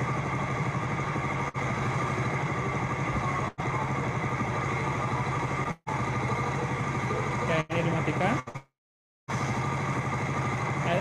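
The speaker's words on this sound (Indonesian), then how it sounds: "Motor nyalain manual. Oh, ini udah jalan, terus kemudian dipadamkan." A motorcycle engine idles in a steady, even hum, broken by a few short dropouts and one brief silent gap, during a demonstration of shutting the engine off remotely.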